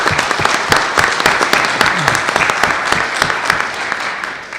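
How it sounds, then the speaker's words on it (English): An audience at a cardiac care meeting applauds: dense, loud clapping from many hands, sustained and fairly even, with no speech over it. "I think we all owe David a round of applause for a superb job."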